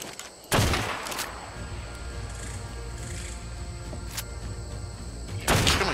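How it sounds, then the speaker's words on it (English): Rifle shots in the survival game Ark, three sharp loud cracks spaced apart over a steady ambient game hum, with a fainter pop in between. "I'm gonna take him out with a rifle."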